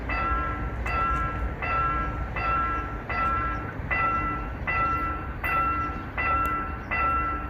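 A KTX train rolls past the Hapyeong railway crossing on the seaside line, its cars producing a loud, steady rumble with regular rhythmic clacking pulses about every half second as the wagons pass close by.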